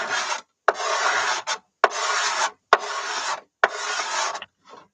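A tool scrapes the wood inside a Bohemian cello during a rebuild in five rhythmic, rasping strokes. Each stroke starts with a sharp catch and is followed by a short pause.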